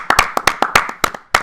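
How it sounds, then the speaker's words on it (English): A few people in a small podcast studio clapping, sharp close claps in an uneven rhythm of about a dozen hits, with no talking. "give ourselves a round of applause"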